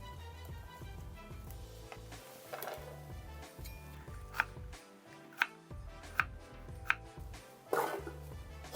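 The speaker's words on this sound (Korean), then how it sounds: "이렇게 반으로 나눠서요, 이 반은 채 썰고 반은 믹서기에 갈아줄 겁니다." A knife cuts half an onion into thin strips on a cutting board, with soft irregular chopping taps and a few sharper knocks, close and quiet, no talking.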